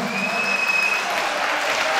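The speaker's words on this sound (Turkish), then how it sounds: "Bir alkış, bir alkış." Audience applause fills the space for about two seconds, a dense steady patter of many hands clapping at even loudness, with a faint crowd murmur underneath and no voices standing out.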